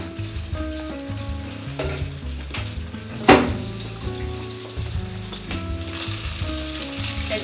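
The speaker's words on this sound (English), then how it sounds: "As you guys can hear, my pork on the stove is actually starting to cook up very fast." Pork sausage fries in a pan on the stove, a loud continuous sizzle with crackles and one sharp clatter partway through.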